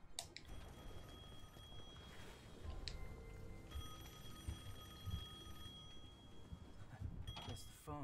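A telephone ringing in the video game Devil May Cry 5: repeated high electronic ring tones in bursts over game sounds, with faint talk in the background.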